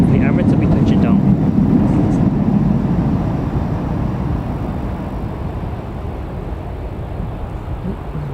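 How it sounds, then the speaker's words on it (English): Boeing 787 Dreamliner heading out from Newcastle Airport, a steady broadband jet roar that fades slowly over several seconds, with faint voices beneath it. "Just got us Dreamliner heading out"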